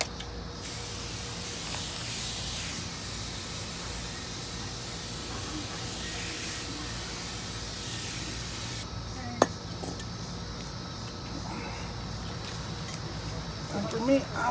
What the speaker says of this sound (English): We're gonna brake clean this guy